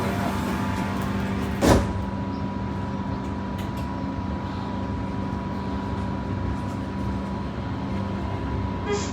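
Doha Metro Red Line train doors closing on a driverless run toward Hamad International Airport: one brief sharp clunk early on, set against a steady cabin hum and a low rolling rumble that carries on throughout.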